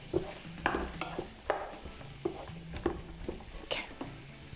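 Black bean burger mixture being stirred and mixed with spices in a bowl, soft scraping and squishing strokes at an irregular pace, close and fairly quiet.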